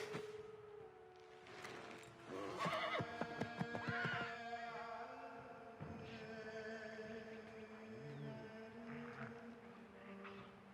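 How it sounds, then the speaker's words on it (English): Horses whinny and neigh loudly in shrill, wavering cries over a steady droning background in the video game Assassin's Creed III, with a few sharp clattering hits early on. "There go the horses."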